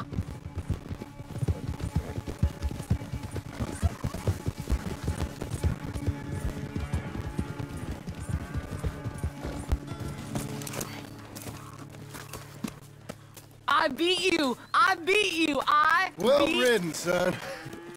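A horse gallops hard in a race in the video game Red Dead Redemption 2. The rapid, even hoofbeats are loud and close for about ten seconds, then fade out as a voice takes over.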